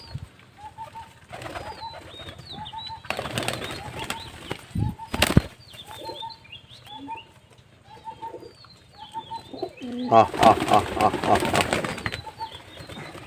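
Pigeons coo repeatedly in soft, low calls, with a couple of bursts of wing flapping and some rustling nearby.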